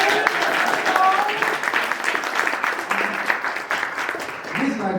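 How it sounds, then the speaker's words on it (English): An audience at a game jam event applauds, a sustained, fairly loud patter of many hands clapping together, with faint voices and cheers mixed into the crowd noise. "So can we get a round of applause?"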